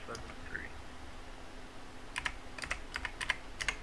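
A six-digit code typed on a computer keyboard, a quick run of light key clicks arriving in the second half after a quieter start, fairly close and with no talk over it.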